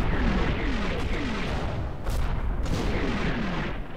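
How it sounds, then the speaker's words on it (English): Artillery fire in a video game's Troina campaign gives dense continuous rumbling booms, heavy and loud without a break, with no speech over them. "Okay, that's not my artillery, is it?"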